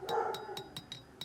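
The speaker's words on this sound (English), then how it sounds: "you can probably hear my dog barking in the background" A dog barks in a short series of about six sharp, evenly spaced yips, fairly faint and in the background, with a steady tone underneath.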